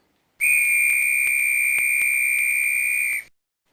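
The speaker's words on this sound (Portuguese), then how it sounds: "O apito tem um som longo." A single long, loud, piercing whistle blast lasting about three seconds, steady and unbroken with an abrupt start and end, heard alone in silence.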